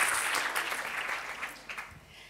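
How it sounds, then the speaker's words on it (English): Audience clapping at a responsible research and innovation presentation, a dense wash of applause that starts strong and gradually fades over a couple of seconds, with no talking. "Come on, it's time to clap to the toolkit."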